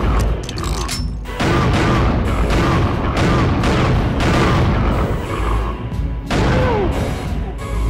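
Video game gunfire booms in dense, loud bursts that run almost nonstop, with heavy low rumble and crashing impacts and only a brief gap near the start.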